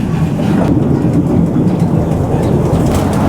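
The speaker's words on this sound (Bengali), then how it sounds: "শুরু হয়ে গেছে আমাদের বুলেট ট্রেন রাইড" A small amusement-park ride train called the bullet train runs around a pond, making a steady low rumble and faint rhythmic clatter throughout, with no talk.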